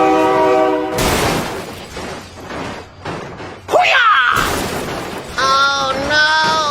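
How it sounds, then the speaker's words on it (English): A train horn in the BeamNG.drive video game blares loud and near in several long blasts, with rumbling rail noise and excited talk between them. "Oh my God, train!"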